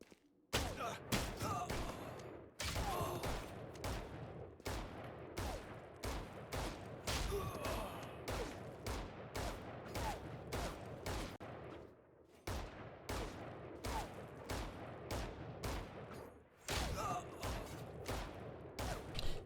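Video game gunfire sounds in repeated bursts of rapid shots during a coaching session. The bursts come in clusters with brief pauses between them and stay fairly quiet and distant-sounding throughout.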